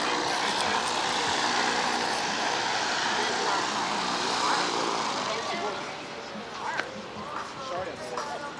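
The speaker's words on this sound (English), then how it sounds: "I see that plane, that prop plane, pretty regularly do charter flights" A propeller airplane passes near the Palo Alto Airport during an airport day, a loud, broad engine roar that fades slightly toward the end, with people talking faintly underneath.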